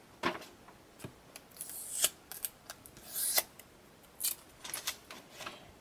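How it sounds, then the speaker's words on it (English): Tape is peeled off a holo Pokemon card taped to paper, giving a series of short, sharp crackling rips and ticks spaced irregularly over quiet, close and fairly faint. "they've got this one taped to the paper. So let's go ahead and untape it"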